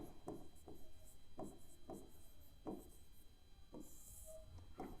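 A marker or chalk writes on a board during a class 12 maths lesson on relations and functions, with several short scratching strokes in an irregular rhythm, faint and close, no voices.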